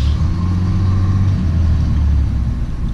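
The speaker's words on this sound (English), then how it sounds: "Listen to my turbo." Dodge Cummins diesel engine with its turbo spooling, a loud close rumbling drone with a faint rising whine above it, steady throughout.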